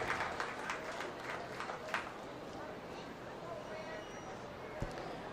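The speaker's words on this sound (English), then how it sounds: "Let's give them a nice round of applause" Applause from the audience at a swine show, sparse claps at the start that fade into a murmuring crowd, with a voice talking over it.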